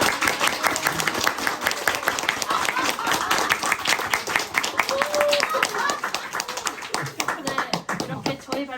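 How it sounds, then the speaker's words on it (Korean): Audience at a school history-class presentation festival clapping for a teacher, a steady patter of many hands filling the room for several seconds, with voices mixed in. "희동 선생님께 박수 한번 주세요"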